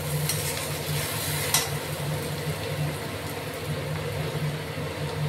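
Chopped onion and green chilli frying in a pan give a steady sizzle with soft stirring scrapes, and a low hum persists underneath throughout.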